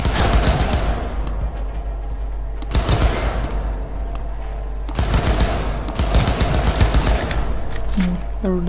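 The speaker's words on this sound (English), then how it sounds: "The accuracy of this gun is horrible." Repeated bursts of automatic gunfire in the video game Cyberpunk 2077, loud and close, cluster into rattling volleys separated by short lulls over a steady low background hum.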